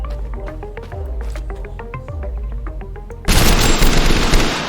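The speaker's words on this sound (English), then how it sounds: "Next up, FAMAS. This thing's pretty simple. It fires very fast." FAMAS assault rifle in TABG firing very fast: a short burst of loud, dense rapid shots near the end, preceded by a stretch of rhythmic game tones and thuds.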